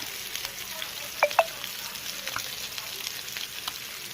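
Catla fish coated in masala fries in a pan, giving a soft, steady sizzle with a couple of sharp clicks and light stirring sounds close by.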